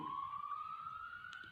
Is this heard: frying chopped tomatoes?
no